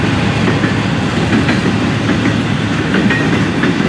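An FEC freight train creeps slowly through a work zone, its rail cars giving a steady, continuous rumble with clickety-clack wheel beats repeating throughout, loud and close with no speech.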